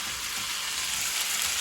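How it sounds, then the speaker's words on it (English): Thin slices of beef for bistek sizzle in a hot pan, a steady, bright hiss of frying fat heard close and continuous with no voices. "right there, let that thing sizzle"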